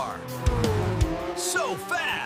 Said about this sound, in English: Red race car.